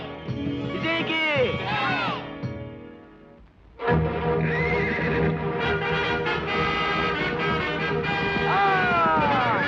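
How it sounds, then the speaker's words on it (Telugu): A wild forest horse whinnies shrilly in loud, wavering bursts, then stamps and snorts amid agitated clatter after a short lull, ending with another rising neigh, close and prominent over background music. "ఇదెట్ట గుర్రం వెనక్కు పోతుందో."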